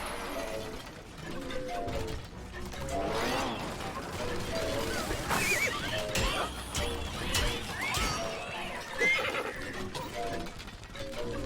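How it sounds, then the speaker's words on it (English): A horse whinnies loudly amid busy Minecraft Legends game sounds, with hoofbeats, clanks and crashes layered over one another, and a voice talking over the noise. "the horse is loud"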